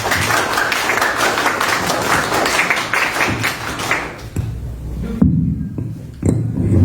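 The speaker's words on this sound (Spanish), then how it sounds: "Fuerte aplauso para nuestro compañero." An indoor audience at a commemoration of the APRA party's 102nd anniversary applauds a speaker with dense, loud clapping for about four seconds, then it thins to a few scattered claps and soft thumps.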